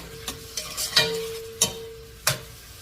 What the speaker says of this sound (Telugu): కొద్దిగా లైట్ బ్రౌన్ అయ్యేంత వరకు ఫ్రై చేసుకోవాలి